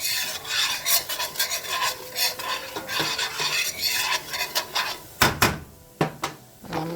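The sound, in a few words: stirring seasonings into chicken pot pie filling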